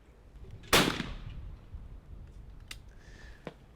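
A single loud shotgun blast fired at a Blaze standard chandelle clay target crossing left to right on a Sportrap range, with a decaying outdoor echo and a few faint clicks afterward.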